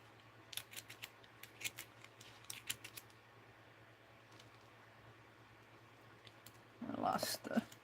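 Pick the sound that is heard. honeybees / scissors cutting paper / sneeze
scissors cutting paper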